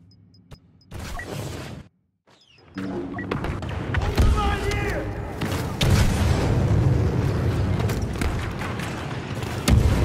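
Star Wars Battlefront II Galactic Assault battle: loud, dense explosions and blaster fire roar almost continuously, with deep booms and crackling shots, broken by a brief near-silence early on, while voices sound over the combat.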